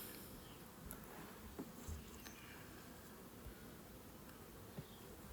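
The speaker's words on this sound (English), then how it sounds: "So there's a decent few bees in here" Soft, continuous buzzing of many honey bees in a hive in autumn, a low steady drone with a few faint knocks, fairly quiet and with no talking.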